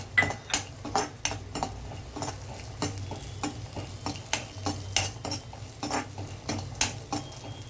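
Cashew pieces and raisins fry in a pan for semiya kesari, with a soft sizzle under repeated close clinks and scrapes of a spoon stirring against the metal, no talk.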